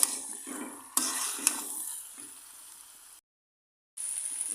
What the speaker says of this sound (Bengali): ভালো করে দশ মিনিট ধরে এভাবে করে নাড়তে হবে নাড়া দেওয়া বন্ধ করা যাবে না